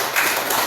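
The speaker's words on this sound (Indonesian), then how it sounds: "tepuk tangan buat Anda." A classroom of students gives a short burst of applause, dense overlapping claps heard close for under a second.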